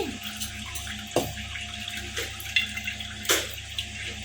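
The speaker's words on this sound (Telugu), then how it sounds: "దీన్ని కల్లుప్పేసి బాగా రుద్ది కడగాలి" Fish for a fish iguru, rubbed with rock salt, is washed under a running kitchen tap. A steady stream of water splashes throughout, with a few sharper clunks and splashes as the fish is handled.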